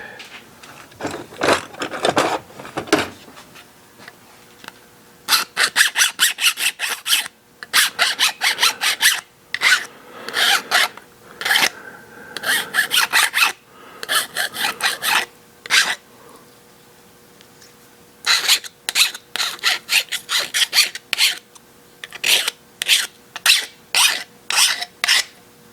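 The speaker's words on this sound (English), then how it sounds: "pull him out, run file over him real quick" A hand file rubs over a rough-finished metal part for a 5 cylinder radial engine, giving bursts of quick rasping strokes in rhythmic runs separated by short pauses, close and fairly loud.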